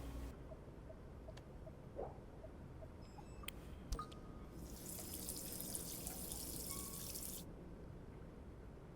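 Water trickling and dripping in the video game D4, quiet faucet-like pouring with a few isolated drips, then a brighter hissing fill for several seconds before it stops.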